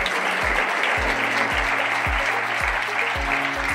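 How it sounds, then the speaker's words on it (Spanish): Steady applause from families at a school graduation ceremony for a graduating student, with loud, continuous clapping and a low, rhythmic musical beat pulsing beneath it. "Un fuerte aplauso para Lucía."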